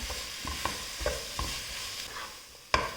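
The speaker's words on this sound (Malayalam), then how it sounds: "ഈ തക്കാളി കൂടെ ഇതിൻ്റെ കൂടെ ആഡ് ചെയ്ത് കൊടുക്കാം എന്നിട്ട് നന്നായി മിക്സ് ചെയ്തെടുക്കാം" Tomatoes and masala are stir-fried in a pan for chicken angara curry, a soft steady sizzle under repeated scraping strokes of a spoon, with a sharper clink near the end; no voices.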